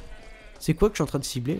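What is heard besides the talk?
goats bleating in Red Dead Redemption video game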